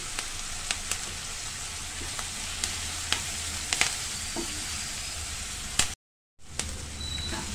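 Ingredients for chamagadda pulusu, a taro root stew, sizzle and fry in a pan with a steady hiss and scattered pops, briefly cutting out near the end.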